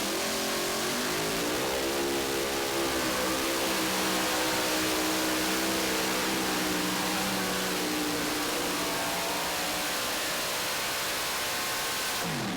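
A modified-class pulling tractor at the National Tractor Pulling Championships howls at full throttle, a loud, continuous engine roar whose pitch climbs and holds for several seconds with no voices.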